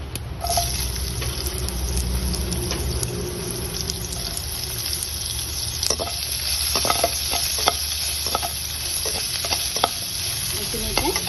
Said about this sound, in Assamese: এতিয়া ইয়াতে মই কাটি থোৱা পিঁয়াজটো ইয়াতে দি দিম।